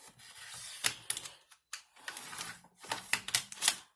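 A cutter slices through a plastic chopping mat in a quick series of crisp, clicking cuts with short pauses between them, close and quiet, with no voices.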